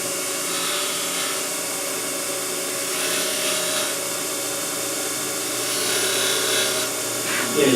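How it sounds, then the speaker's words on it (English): A square scraper cuts small V grooves into the bottom of a wooden box spinning on a lathe, making a continuous close scraping, rasping hum that swells slightly toward the end and carries no speech. "I can use my square scraper and I can put a couple little V grooves in the bottom"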